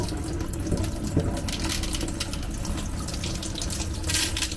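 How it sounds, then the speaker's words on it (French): Leftover water from an under-sink activated-carbon water filter cartridge poured into a kitchen sink, a steady splashing gush running throughout, loud and close, with no talking. "Et là, on vient vider le reste dans l'évier."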